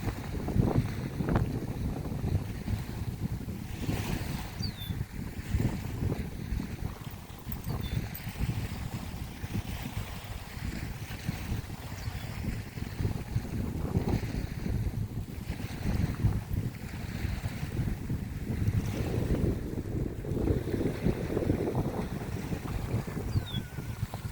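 Wind buffets and gusts continuously for a long stretch at a lakeside beach, roaring and rumbling against the microphone, with faint splashing of wind-driven waves beneath.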